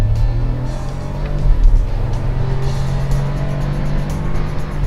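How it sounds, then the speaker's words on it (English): A Peugeot 308 with a turbocharged three-cylinder engine and six-speed automatic drives along, giving a steady, low engine drone with road noise and a brief swell of power partway through, loud and close with no talk. "It may only have 3 cylinders, but it has a turbo, and that makes this a cracking little engine."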